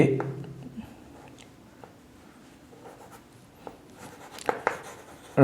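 Chalk or marker writing on a board during a math class, soft scratchy strokes coming in short irregular bursts, mostly faint, with a louder burst near the end.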